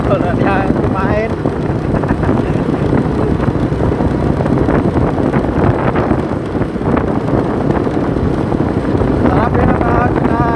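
Motorcycle engine droning steadily while riding, buried under heavy buffeting wind noise on the microphone, with someone talking through it.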